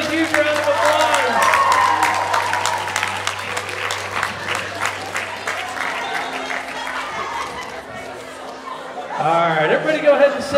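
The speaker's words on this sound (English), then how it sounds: "On one, two, and three, give them a huge round of applause." Audience applause fills a high school hypnosis comedy show, a steady wash of clapping with crowd chatter and some laughter mixed in, easing slightly before swelling again near the end.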